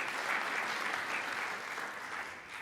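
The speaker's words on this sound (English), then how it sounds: "let's give these people a big round of applause" Audience at a multiple myeloma patient and family seminar in Los Angeles giving a round of applause, an even, continuous wash of clapping, heard faint and somewhat distant.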